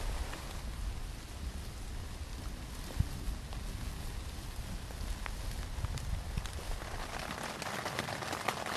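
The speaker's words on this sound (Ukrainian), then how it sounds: "Так, треба поспішати, бо сильний дощ." Heavy rain drums steadily on a tent and bags at a campsite, a dense, loud, unbroken hiss with scattered sharper drops hitting close by.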